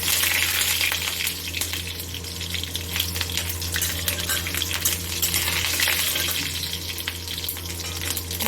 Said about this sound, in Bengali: রসুনটা একটু লাল লাল করে ভাজা হয়ে গেলে